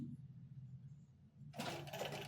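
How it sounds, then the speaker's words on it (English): A sewing machine runs in reverse, starting abruptly after a quiet low hum and then whirring steadily and loudly close by. "So if I bring it up here, it will probably sew in reverse, as you can see."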